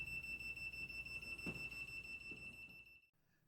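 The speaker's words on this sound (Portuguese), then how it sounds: "os valores encontrados também fizeram o medidor bipar, indicando níveis extremos que requerem atenção" Electromagnetic field meter sounding a steady high-pitched alarm tone at a severe exposure reading, faint and continuous, cutting off just before the end.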